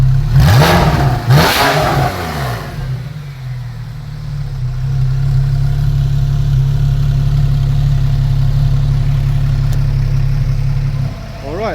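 A Porsche 991 Carrera S with a performance exhaust blips loudly twice, then settles into a deep, steady idle rumble close by; speech is not evident over the engine.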